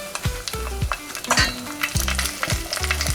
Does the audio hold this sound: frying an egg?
yes